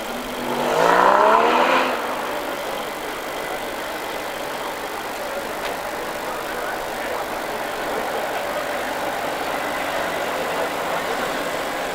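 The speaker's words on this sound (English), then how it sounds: "it's a two-axle vehicle with a splendidly varnished wooden horsebox body" A vintage two-axle lorry with a varnished wooden horsebox body runs its engine at a road run, a low steady mechanical rumble with a brief louder whining rev near the start, then a smooth idle-like drone.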